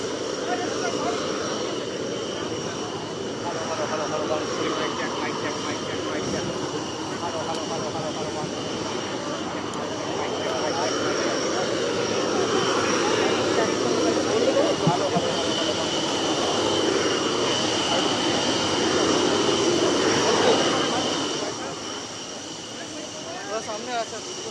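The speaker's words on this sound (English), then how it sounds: "These are the last MiG-21s of the Indian Air Force in front of you." Indian Air Force MiG-21 jets making a final decommissioning flypast over Chandigarh Air Base, a sustained distant roar that swells and recedes beneath ongoing commentary.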